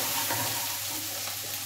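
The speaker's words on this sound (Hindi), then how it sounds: "अब हम इसके अंदर कसूरी मेथी डालेंगे और सारे मसाले जो हैं हमारे इसके अंदर" Kasuri methi and spices sizzle loudly in a hot pan for aloo tava idli, a dense continuous frying hiss close up, alone with no voice.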